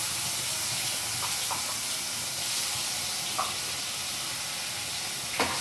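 A garlic, ginger and onion masala hisses and sizzles steadily in a hot pan, a soft continuous fry with a few faint clicks and spits, and no talk.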